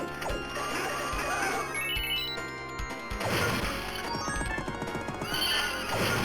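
Horse neighing in a video game, loud whinnies rising over crashing and smashing game effects, with a second neigh bursting out after a brief dip.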